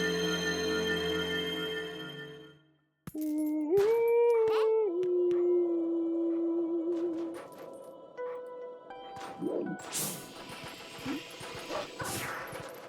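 A howling stone in the video game Zelda: Twilight Princess sends out a wavering, wind-like howling tone that rises, bends and slowly fades. A sharp knock and a brief tonal chord come just before it, and faint scattered sounds trail after.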